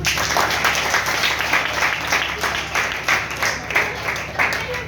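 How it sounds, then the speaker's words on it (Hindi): Audience applause at a talk reviewing a Bhagavad Gita book, a steady, fairly loud run of clapping with a few sharper claps standing out. "बहुत तालियां बजा दीजिए उनके लिए।"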